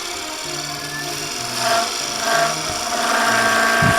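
A skew chisel cuts the foot of a red ironbark snack bowl spinning on a wood lathe, giving a continuous whirring hum with scraping cutting noise that swells and fades in several passes.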